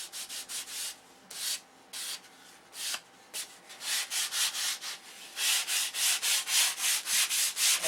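A wooden flap being sanded by hand, with repeated rhythmic rasping strokes, some short and sharp, others longer and louder, in a quiet room with no talking.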